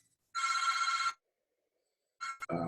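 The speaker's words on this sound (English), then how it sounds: "Sorry about that ringing phone." A telephone bell rings in two bursts. The first is a long trill and the second a shorter one after a silent gap, both loud and close with no voices, and a clunk follows the second.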